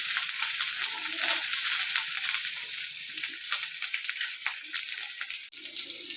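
Dried fenugreek leaves (kasuri methi) fry in a hot pan with potatoes for an aloo beans dish, giving a steady loud sizzle and crackle with faint stirring scrapes throughout.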